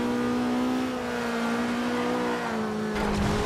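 A car in the racing game Forza Horizon 2, driven with a G920 steering wheel, accelerates hard, its engine note holding a loud steady drone, then a rougher burst at the end, with no voices.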